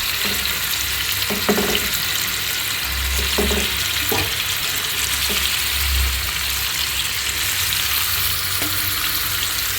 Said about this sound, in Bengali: আমি আগে তো ইলিশ মাছগুলো ভেজে নিব